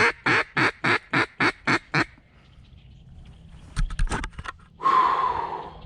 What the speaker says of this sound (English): She quacked back.